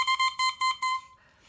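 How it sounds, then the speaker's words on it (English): A double reed played alone in playing position gives the reedmaker's test beep, a series of five short, bright, buzzy pulses followed by one longer sustained tone that fades out. "you put it in your mouth in playing position and you just play it, that's a beep"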